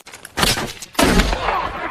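Battle gunfire in a war film fight against Taliban fighters, two loud, close bursts of heavy shooting separated by a brief lull, with dense rattling fire carrying through the second half.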